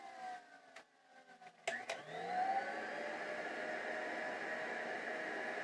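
A vintage Filter Queen vacuum cleaner starts with a few clicks and thumps, then whines up into a steady, rushing motor drone that holds close and continuous on its low setting.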